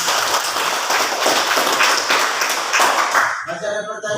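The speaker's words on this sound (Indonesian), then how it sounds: "Ya, tepuk tangan untuk kelompok 1." Classroom group clapping for Group 1 during a teaching practice session: dense, rapid hand claps from a room of students for several seconds, fading out as voices and a tone come in at the end.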